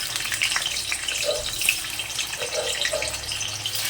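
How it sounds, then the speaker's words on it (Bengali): Paneer pieces frying in hot white oil and ghee, a steady broadband sizzle with no break and a few soft pops rising out of it, close and moderately loud. "এবার আস্তে আস্তে আমি পনিরগুলো ভেজে নেব"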